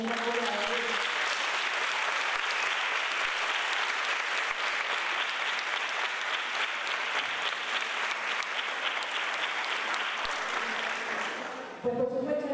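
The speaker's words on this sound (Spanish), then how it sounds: "yo creo que ya merece un aplauso" Sustained, dense applause from the audience at the closing ceremony of a municipal music academy, filling the room at a steady level for about twelve seconds before fading as a voice returns at the end.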